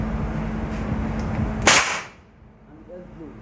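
A sharp compressed-air blast bursts from a manually operated bottle blow-moulding machine at a bottled water factory, cutting through steady machine hum, then hissing away into quieter background noise.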